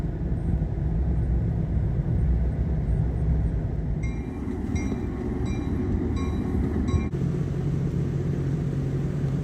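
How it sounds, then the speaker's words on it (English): A train on a historic Florida railroad rumbles steadily and loudly nearby, with wheel and rail noise, squeals and clanks, and no voices. "the noises that the train makes"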